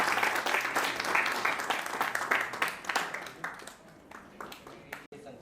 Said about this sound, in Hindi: ताली बजा दो, ताली बजा दो।